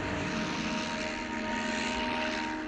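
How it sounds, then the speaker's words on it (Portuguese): A propeller-driven reconnaissance plane drones steadily on an aircraft carrier, a continuous engine roar with a sustained hum, loud and even throughout with no talk. "Este aqui é para lançar aviões de reconhecimento com uma catapulta."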